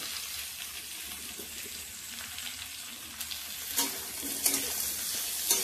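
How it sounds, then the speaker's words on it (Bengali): Capsicum, onion and slit green chilli being lightly fried in a pan, a soft continuous sizzle with a few scraping stirs growing louder toward the end, no talking. "হালকা একটু ভেজে নেব।"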